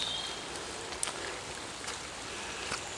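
Rain falls steadily in a woodland after days of torrential downpour, a soft, even hiss of drops with an occasional louder patter close by.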